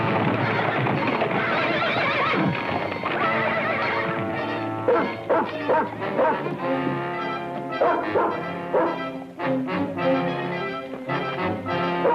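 Dog barking mixed with horses neighing and whinnying, with clattering hooves, in a film scene. The sound is loud and busy throughout, with repeated sharp barks layered over the animal calls.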